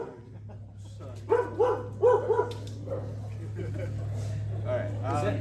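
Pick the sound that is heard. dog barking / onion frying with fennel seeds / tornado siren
dog barking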